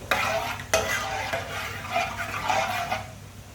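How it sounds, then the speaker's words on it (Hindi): Whole coriander and cumin seeds roast in a pan for masaledaar bhindi, giving a light sizzle broken by sharp scraping stirs, one loud clatter near the start and softer scrapes later. "आधी चमची साबुत धनिया, आधी चमची साबुत जीरा। 1 मिनट के लिए रोस्ट कर लेंगे।"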